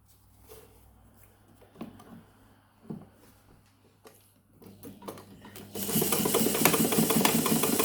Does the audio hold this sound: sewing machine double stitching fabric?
yes